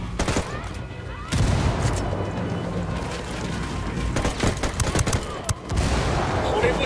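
Sustained automatic gunfire and scattered shots rattle through a firefight in Ghost Recon Wildlands, loud and near, with sharp bursts around the middle and a voice heard intermittently over the shooting.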